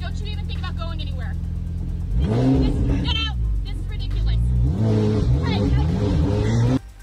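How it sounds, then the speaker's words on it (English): Loud car engine revving in a residential neighbourhood, repeated rising and falling engine sweeps after a steady idle, close and prominent, with people talking over it. "You cannot just be driving this loud car in this neighborhood at all hours."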